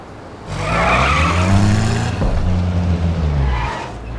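Car in The Saboteur speeding off with a loud tire skid and squeal, engine roaring close up for a few seconds before easing off.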